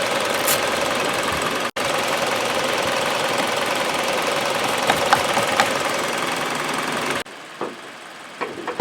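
A 2019 Hyundai Elantra SEL's transverse-mounted engine idles steadily and loudly at close range, a continuous broadband drone with a faint ticking knock, before cutting to quieter ambience near the end.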